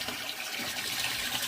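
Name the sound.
water pouring from standpipe into aquaponics tank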